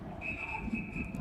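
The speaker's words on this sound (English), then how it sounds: "we're gonna have a whistle here" A referee's whistle at an ice hockey sectional game, one thin, steady, fairly faint whistle tone held for about a second over arena noise.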